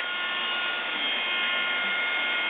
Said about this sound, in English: this is Underwater Kinetics Hangair wetsuit or drysuit dryer.